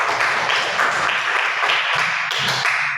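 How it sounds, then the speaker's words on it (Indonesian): Classroom applause for students' work, a steady wash of many hands clapping together at close range, continuous and even for the whole stretch with no voices over it. "Tepuk tangan dulu"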